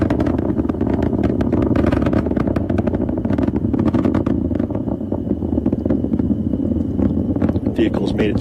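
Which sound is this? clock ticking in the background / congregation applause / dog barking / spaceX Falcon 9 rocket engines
spaceX Falcon 9 rocket engines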